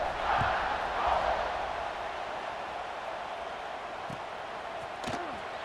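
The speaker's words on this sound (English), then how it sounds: "this crowd is buzzing after that last score" A stadium crowd at an American football game keeps up a dense, steady roar after a score, with a few faint thuds and distant shouts rising out of the wash.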